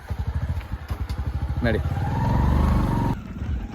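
A motorcycle being parked idles with a quick, even putter close by, then a voice speaks over the engine as the pulsing smooths and fades.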